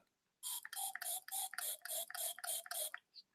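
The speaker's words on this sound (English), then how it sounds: "I have a spray of Califos for Aries right in my hand right now, and here we go" A small hand-held spray bottle of a homeopathic remedy fires a quick series of about nine crisp, hissing spritzes in a steady rhythm, close and clear in a quiet room, then one faint short puff after a pause.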